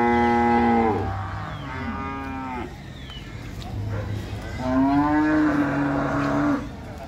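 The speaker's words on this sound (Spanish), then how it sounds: "Vieja ya, vaca vieja" Cattle at a livestock market in El Tránsito, San Miguel, give several loud, drawn-out moos, including one from an old cow, with quieter market noise between the calls.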